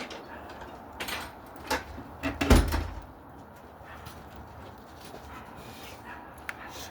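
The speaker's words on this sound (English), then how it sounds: "My dog started barking." A dog indoors gives a few scattered barks and soft whimpers, with panting and bumps from a cage being moved, fairly quiet and without talk.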